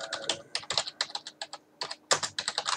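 Quick bursts of keystrokes clatter on a computer keyboard as a sudo command is typed during a Raspberry Pi setup, close and crisp with short pauses between groups of clicks.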